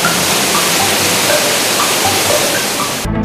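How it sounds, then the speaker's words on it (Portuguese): Rushing torrent of a mountain stream, where thin trickles swell into churning water; a steady, loud broadband roar fills the whole stretch, close and continuous, before dropping away abruptly at the very end. "Aos poucos, filetes que rasgam a montanha se transformam em turbilhão de água."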